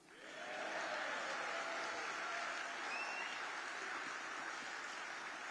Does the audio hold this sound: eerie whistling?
no